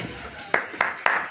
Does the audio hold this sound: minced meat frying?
no